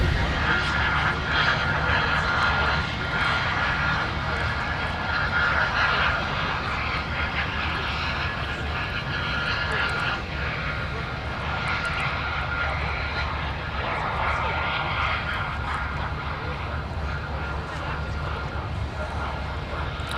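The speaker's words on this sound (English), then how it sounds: "The 767, in my opinion, is such an underappreciated wide-body aircraft." Boeing 767 wide-body airliner at Minneapolis–Saint Paul airport, a steady, loud, broadband engine roar holding throughout with no break, while a person talks over it.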